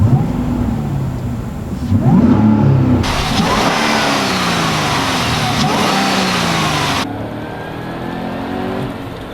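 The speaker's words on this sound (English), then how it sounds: "a supercharger that crams more air into the engine, but more importantly, makes that oh-so-beautiful whine" A supercharged GM car engine revs hard and close, with a high supercharger whine rising and falling over the throaty roar, then settling to a lower drone.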